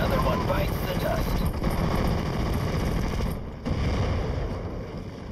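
Mortar and artillery fire plus machine-gun bursts in a war video game, a dense, continuous barrage of loud blasts and rattling shots, with a brief lull midway before the firing resumes.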